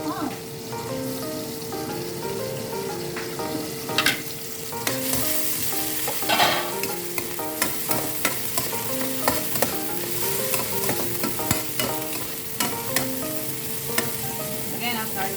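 Bottle gourd (upo) sautéing in a pan, with a steady sizzle under repeated scraping and clinking of a utensil stirring the vegetables, close and clear.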